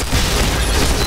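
A bomb goes off in the shooter video game Point Blank, a brief loud, dense rumbling blast with no talk over it.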